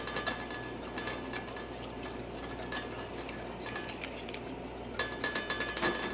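Salt being blended into a toffee bar mixture in a bowl, a continuous whirring electric mixer with a mechanical, ratcheting grind and occasional rhythmic clicks, close and steady.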